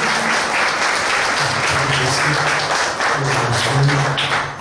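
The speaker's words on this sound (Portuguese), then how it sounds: "Vamos aplaudir Jesus." A church congregation applauds steadily throughout, a dense wash of claps under a low sustained hum, with faint voices mixed in.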